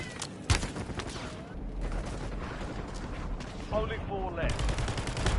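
Gunfire in Call of Duty: Warzone, bursts of automatic fire and scattered shots mixed with mechanical clatter during an end-game firefight, under brief talk and radio voice lines.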